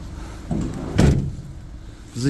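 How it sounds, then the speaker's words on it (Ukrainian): A 2017 Renault Master L1H1 van door shuts with a solid thud, preceded by a softer knock and followed by faint handling noises. "Зачинили дверцята"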